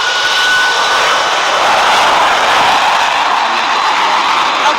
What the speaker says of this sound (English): there's the aircraft